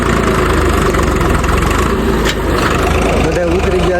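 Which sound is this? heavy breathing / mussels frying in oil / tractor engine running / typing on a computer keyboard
tractor engine running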